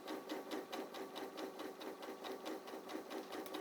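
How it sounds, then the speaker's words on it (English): A sewing machine runs a straight line of stitches, its needle chattering in a fast, even rhythm; steady and fairly quiet, with no talking. "it is really as simple as just stitching in a straight line"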